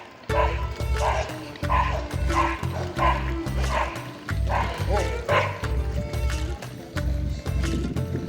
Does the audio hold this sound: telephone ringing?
no